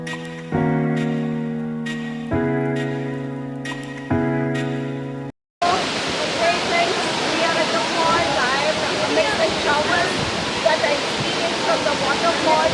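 Agaya Gangai waterfall in the Kolli Hills, Tamil Nadu. After a few seconds of sustained tonal sounds and a short silence, a loud, steady, broadband roar of rushing and falling water fills the rest of the clip.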